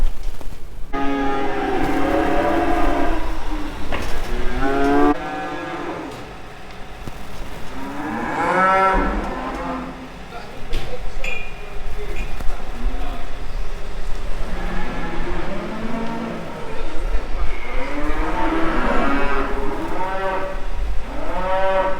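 Calves on a farm moo loudly and repeatedly at close range, several overlapping bawling calls in bursts across the whole stretch, with farm background noise between them.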